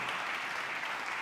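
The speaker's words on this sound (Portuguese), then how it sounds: "Dá um aplauso a Jesus." A church congregation at a Sunday service claps in a brief burst of dense, steady applause.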